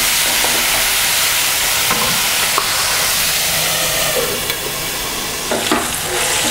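Capsicum masala curry simmers in a pan, a steady close sizzle and hiss of frying and steam with faint stirring clicks, no talking.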